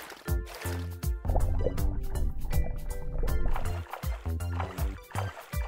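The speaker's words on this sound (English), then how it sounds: "Jump in the water and push the water backward with your hands." Water splashes and swishes as hands push it backward during swimming, with a rhythmic series of close, moderately loud strokes and drips and no talking.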